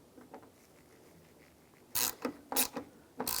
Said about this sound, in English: Take the socket, just get that started. And just snug that up, not too tight.